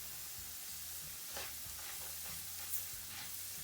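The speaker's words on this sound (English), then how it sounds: "fry moong dal on slow flame until we get nice" Soft, steady sizzling of moong dal frying in ghee in a pan over a low flame, with faint occasional stirring scrapes, quiet and close.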